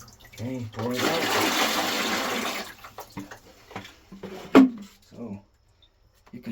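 Water gushes out of a Waterdrop filter housing during a filter replacement in a steady rushing pour for about two seconds, with people talking before and after it.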